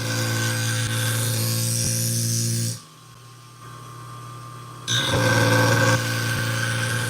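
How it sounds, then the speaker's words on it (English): Industrial scissors being sharpened against a 240 grit diamond wheel on a sharpening machine, a steady close grinding hum with bright scraping that drops away briefly midway, then resumes louder. "this is a 240 grit diamond wheel"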